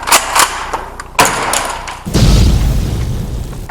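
Shotgun fire in a video game, an AA12 or KSG: several heavy booming blasts in quick succession, then a dense rumbling roar as the firing continues.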